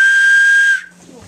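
A handheld whistle named Sonic gives one loud, sustained shrill tone lasting under a second, then cuts off abruptly into quiet room noise.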